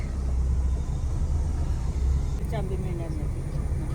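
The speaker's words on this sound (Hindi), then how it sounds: "अभी निकाल रहे अपने रिजॉर्ट से गाड़ी" A car pulls out of a resort in Goa in the morning, a steady low engine and road rumble from inside the vehicle, with a voice speaking over it.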